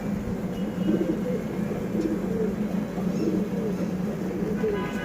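Pigeons in a loft coo softly and repeatedly while feeding, a low, gentle warbling that carries on through a steady noisy background.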